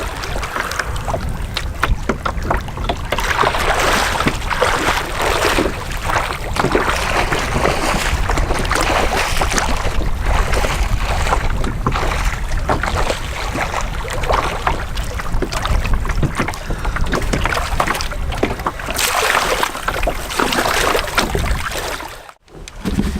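A canoe paddled on a lake in Algonquin Park, Canada, with steady close water swishes and splashes from the paddle strokes over constant wind buffeting the microphone, continuing without pause for about twenty seconds.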